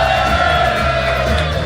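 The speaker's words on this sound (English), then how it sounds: "Give yourselves a round of applause." A live studio audience at a comedy show cheers and applauds in a loud, continuous roar of clapping mixed with whoops and shouts.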